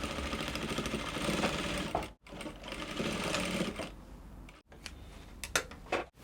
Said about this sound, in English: So you take to the sewing machine now, you join together with 1/2 inch allowance.